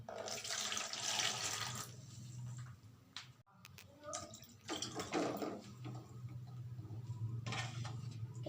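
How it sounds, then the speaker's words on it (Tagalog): Cold salted water is poured for salted eggs in a steady splashing stream that fades into a short lull and then resumes, quiet and close. "ilagay na po natin ang malamig na tubig na may asin"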